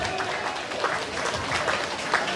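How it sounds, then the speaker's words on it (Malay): Audience applause fills a temple hall at a deity's anniversary celebration, a steady, dense wash of clapping that lasts the whole short stretch at moderate loudness. "Mari kita berikan tepuk tangan sekali lagi untuk Biara Ping Shu Kiong."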